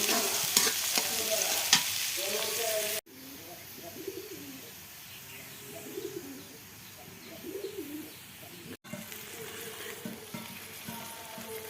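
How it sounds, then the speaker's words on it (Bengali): Spice paste frying in hot oil for a fish curry, a steady close sizzle with stirring scrapes, pigeons cooing in the background, and a louder burst at the start as the paste goes in. "তেলটা গরম হয়ে গেছে, এখন আমি পেস্টটা দিয়ে দিই। পেস্টটা আমি লাল লাল করে ভেজে নেব।"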